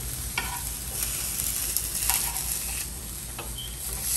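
La Costeña mole being stirred in a frying pan it keeps sticking to, a steady sizzle under scattered scraping knocks of the spoon against the pan, close and fairly loud.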